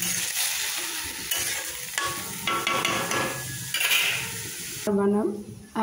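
Food fries lightly in a pan while it is stirred, a steady sizzle broken by scraping and clinking of a utensil against the pan, heard up close.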